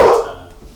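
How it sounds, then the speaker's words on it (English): A single sharp dog bark, loud and close, quickly fading into a quiet room with no speech. "Ignore the resident dog"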